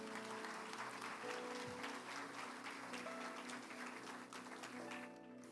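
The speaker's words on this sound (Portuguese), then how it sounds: "Você pode aplaudir Jesus pela vida da pastora?" Steady applause from a church congregation, sustained for several seconds at a moderate distance, with some faint voices underneath.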